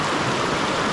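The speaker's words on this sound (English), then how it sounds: "this is a lot of water, right? Just bubbling out of the ground" Ricks Spring in Logan Canyon, Utah, where a large volume of water bubbles out of the ground, heard as a steady, full rushing and gurgling wash with no pauses, close and fairly loud.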